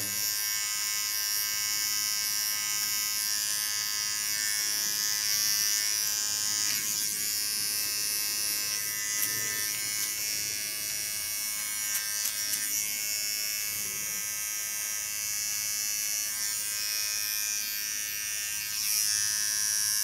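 A small Keone electric clipper fitted with a ceramic blade buzzes steadily while re-sharpening the contour line of an asymmetric disconnected haircut, a continuous close-up whine with no talking.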